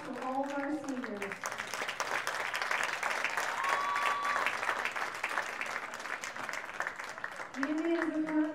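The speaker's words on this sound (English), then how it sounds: "Let's give a round of applause for all of our seniors." A school crowd at a sports event applauds the seniors, a steady wash of many hands clapping at moderate distance, heard under a voice over the public address at the start and end.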